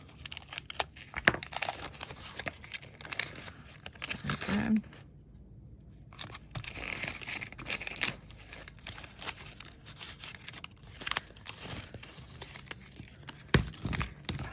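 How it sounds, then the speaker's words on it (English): Metal craft tape being crumpled and creased by hand for paper-craft art, a dry crinkling and tearing texture in repeated bursts across the clip with a brief pause midway, close and moderately loud, with no talk over it. "I crumple the tape because I really like the creased look"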